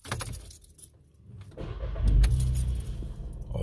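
A VW Polo (AW) engine cranks and catches, then settles into a steady idle, preceded by faint jangling keys and handling noises close to the microphone, with no speech.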